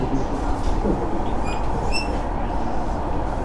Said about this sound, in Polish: Ostatni pociąg nasz.